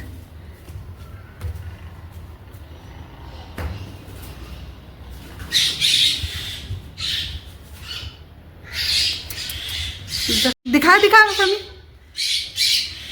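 A baby myna bird, separated from its family and handled by people, gives loud, harsh repeated squawks in close bursts, with voices talking around it.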